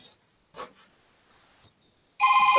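A telephone starts ringing near the end with a bright, steady electronic trill, preceded by quiet room sounds and a few soft knocks.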